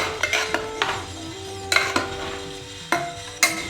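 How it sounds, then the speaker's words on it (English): Potatoes and cauliflower with tomatoes and spices are stirred in a pan with a utensil, giving several distinct scraping clinks against the metal at irregular intervals over a soft sizzle, close and fairly clear. "Just give them a mix so that all the spices get coated in the vegetables"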